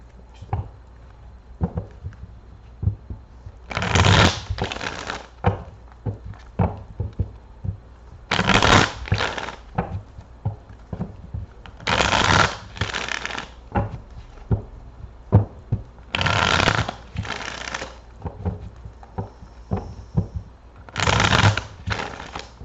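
Tarot cards are shuffled by hand in repeated bursts of crisp riffling, roughly every four to five seconds, with quieter taps and handling of the deck in between, close and clear with no talk.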